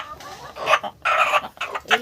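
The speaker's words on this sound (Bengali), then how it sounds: "যেমন এই একটা মোরগ" Desi rooster, about six months old, clucking close up in short bursts of sharp, nasal calls with brief pauses between them.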